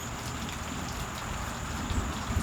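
Steady rain falls outside, an even, close patter of drops on surfaces with a few heavier splats near the end and no talk.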